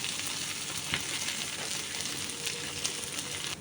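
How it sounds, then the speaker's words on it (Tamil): Fish pieces frying in oil in a kadai for fish moilee, a soft continuous sizzle and crackle at moderate distance with a couple of sharper pops, no talking. "இப்போ மீன் ஓரளவு வறுந்து ஃப்ரை ஆகிடுச்சு"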